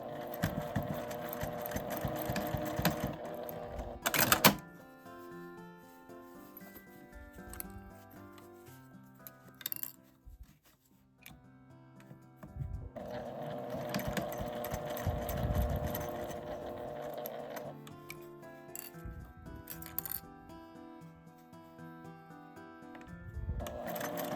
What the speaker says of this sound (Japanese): 縫い目まで縫ったら少し角度を変えて裏布部分を縫います